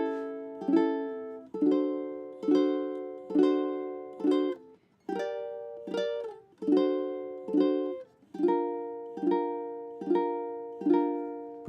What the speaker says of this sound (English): if I just use my thumb and strum through them, it sounds something like this